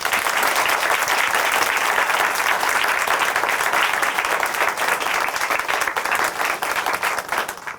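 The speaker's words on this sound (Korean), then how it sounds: "함께 응원의 박수 보내드릴까요?" A Korean Christian TV studio audience gives a loud, dense round of applause, sustained clapping from many hands that holds steady for several seconds before tapering slightly at the end.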